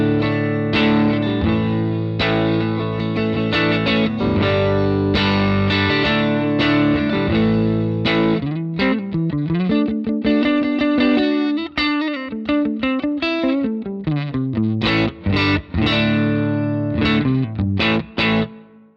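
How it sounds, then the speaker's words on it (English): Clean, mid-scooped Fender Stratocaster tone on the neck pickup, running through a pedal-platform amp model with light plate reverb. Steady strummed chords give way to bending single-note lines, loud and continuous with no talking. "Let's have a listen to it on the neck pickup of my Strat."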